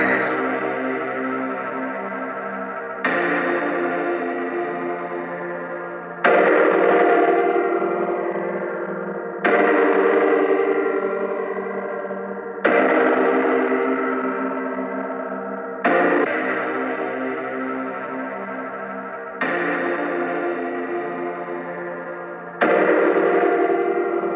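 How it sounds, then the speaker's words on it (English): Music track processed with heavy distortion and chorus effects, played loud and steady in repeating sections of about three seconds with abrupt jumps in level between them, and no voices. "because we've added that distortion, the volume of the tracks increased massively"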